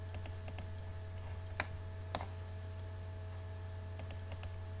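A computer keyboard typing a short command in AutoCAD, with a few isolated key clicks and two sharper key presses, like an Enter key, over a steady electrical hum and no talking.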